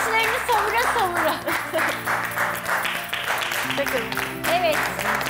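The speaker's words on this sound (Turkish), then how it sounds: "alkışlarla çağırdığım salondan alkışlar veriyorum" Studio audience applause on a Turkish televised cooking competition, a steady wash of clapping that runs the whole time beneath loud music and a voice.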